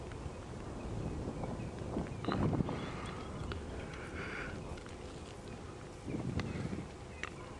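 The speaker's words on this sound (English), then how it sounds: "The wind has picked up a little bit." Wind blows steadily across the microphone outdoors on a safari game drive, a continuous rumbling rush with a few louder gusts and no talking.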